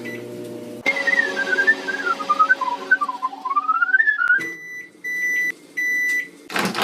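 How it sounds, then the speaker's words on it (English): A microwave oven heats broccolini in a water-filled bowl covered with a plate, running with a steady hum and a wavering whistle-like whine. It then stops, gives several long beeps and ends with a clunk, like a door opening. "Stick it in the microwave for maybe 1 minute."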